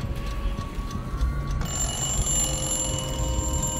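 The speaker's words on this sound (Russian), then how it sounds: "Будильник. Будильники надо заводить." Alarm clock in Dishonored 2 being wound, heard as a steady mechanical ringing whir that shifts brighter partway through and continues at an even level to the end.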